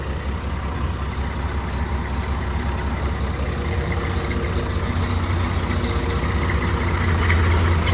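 A piece of farm machinery idles steadily, its engine a loud, close, continuous low rumble with an even mechanical drone throughout.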